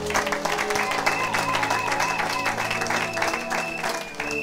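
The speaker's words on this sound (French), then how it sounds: "Acclamez pour la gloire de notre Dieu." A church congregation applauds for the glory of God, steady dense clapping filling the whole stretch, with music tones and voices mixed in.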